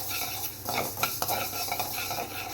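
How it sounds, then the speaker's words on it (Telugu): Fenugreek and mustard seeds are lightly fried for mango pickle, giving a soft continuous sizzle with repeated scraping stirs of a utensil in the pan, close and fairly quiet. "మెంతులు ఆవాలు కూడా కొంచెం ఫ్రై చేసండి"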